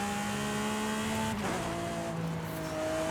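A 6.5 liter V12 car engine in the Forza Horizon racing game, holding a steady high drone, then dropping sharply as it shifts near the midpoint before climbing again, loud and continuous with no talk.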